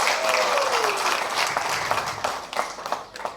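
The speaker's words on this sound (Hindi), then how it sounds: "और एक बार हमारे मेंटरों के लिए और जोरदार तालियां बजाएं।" Loud, enthusiastic audience applause at an awards recognition event, dense clapping from a large crowd close by that swells and then thins toward the end, with a brief voice or whistle near the start.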